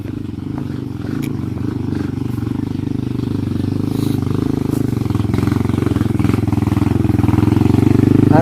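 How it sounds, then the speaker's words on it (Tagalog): A motorcycle engine drones steadily nearby, its rumble slowly growing louder as it rides uphill, with faint rattles and clatter over the top. "Mukhang may paakyat na motor."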